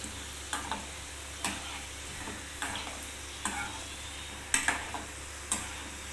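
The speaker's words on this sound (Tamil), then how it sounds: "கொஞ்ச நேரம் அப்படியே பொறிக்கலாம் திருப்பி போட்டுக்கலாம்" Chicken leg pieces frying in a pan of oil for a sweet leg-piece dish, a steady low sizzle broken by several sharp utensil taps and clinks at irregular intervals, fairly quiet with no one talking.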